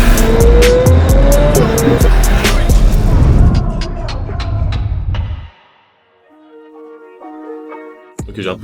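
Ferrari supercar driving hard, with a loud engine roar, tyre squeal and skidding that fade after about five seconds, leaving quieter rattles and a few clicks nearby.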